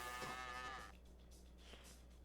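Goats in a video game give a drawn-out, harmonic bleat that is loud and close, then a second, fainter cry a moment later, with game noise underneath and no talk.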